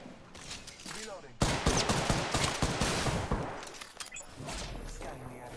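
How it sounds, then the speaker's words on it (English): Rapid bursts of gunfire in the Apex Legends video game, a quieter volley followed by a loud sustained stretch of automatic fire that tapers off, with game effects around it. "I am taking fire, friends."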